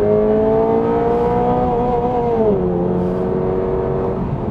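A Toyota GR86 sports car prototype engine revs hard on a track test drive, its loud, steady tone climbing in pitch before dropping at a gear change and pulling on again, heard from inside the car.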